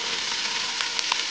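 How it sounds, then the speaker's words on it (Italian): Celery, onion and carrot sauté in hot oil for rabbit cacciatore, a loud steady close sizzle with small pops and crackles, no voices. "e faccio soffriggere"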